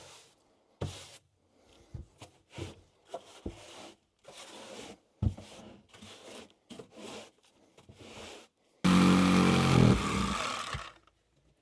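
A hole is cut into the log wall of an outhouse being built off grid in Alaska: irregular close knocks and scrapes come first, then a loud, continuous rasping cut runs for a couple of seconds.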